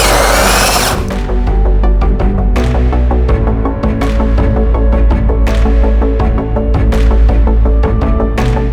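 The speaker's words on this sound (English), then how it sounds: "then you can just use a simple hole cutter" A power drill fitted with a hole cutter bores through PVC panelling, a loud whining tool with repeated bursts and stops as the cutter bites, accompanied by gritty cutting noise.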